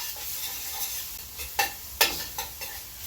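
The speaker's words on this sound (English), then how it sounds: "we're going to continue sauteing this just until the vegetables become nice and soft" Vegetables for a pork rib ragu sautéing in a pan, a soft steady sizzle broken by a few sharp stirring scrapes and clacks of a utensil, close and fairly quiet with no talking.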